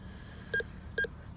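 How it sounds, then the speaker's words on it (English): A 3300 metal detector swept over a quarter in a yard gives two quick high-pitched double beeps, close and clear above a low background rumble. "a quarter, that's ringing really high"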